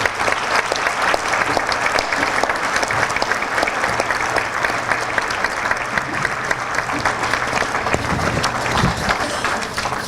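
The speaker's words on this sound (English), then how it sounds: "Let's give them all a round of applause." Sustained audience applause at the 47th Annual Access Conference, dense and even clapping throughout, loud and close, with no pauses.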